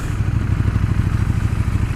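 A KTM 1290 Super Duke R engine turns over at low revs with a loud, pulsing, lumpy throb. The beat is rapid and fairly even.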